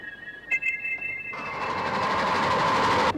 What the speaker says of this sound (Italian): Il treno, intanto, continuava a filare nella notte.